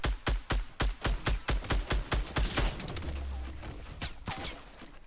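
Rapid bursts of gunfire from a Fortnite match during a squad fight, sharp repeated shots in a fast uneven rhythm, loud and close, then trailing into a sustained rumble with a few scattered later cracks.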